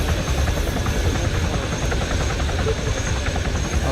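A helicopter in the video game Arma 3 makes a loud, continuous rotor and engine thrum, heard up close without speech.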